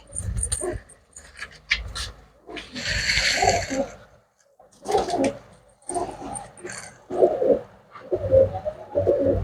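Pet pigeons with white eyes and black heads, kept for sale, coo in a low, throaty series of short calls close by, with bursts of rustling and someone speaking briefly between them.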